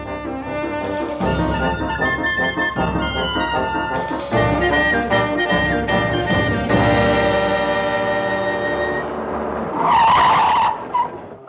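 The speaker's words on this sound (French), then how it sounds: "le cabriolet jaune fonce vers le port" A yellow convertible races toward a harbour as a radio-drama effect, its engine roaring loudly while the tyres squeal in long skids, ending in a final harsh screech.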